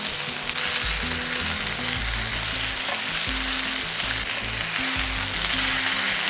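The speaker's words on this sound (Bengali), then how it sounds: "এখন গ্যাসটাকে হাই ফ্লেমে রেখে কিছুক্ষণ এটাকে ভাজা ভাজা করে নেব।" Spiced mixed vegetables fry in a pan over a high gas flame for an old-style vegetarian dish, giving a loud, steady, close sizzle that runs unbroken and alone throughout.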